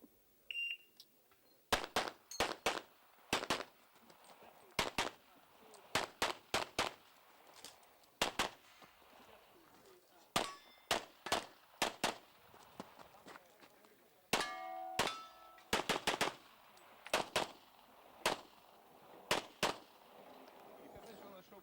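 Handgun shots ring out at an IPSC European Handgun Championship stage, sharp cracks fired in quick strings and clusters with short pauses between, some followed by metallic clangs of steel targets, moderately distant.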